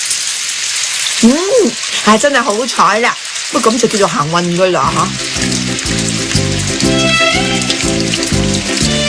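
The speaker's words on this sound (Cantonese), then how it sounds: "哎呀，落雨添。" A rain shower begins in a Doraemon cartoon scene, its soft, steady hiss running beneath a man's speech and then under rhythmic background music.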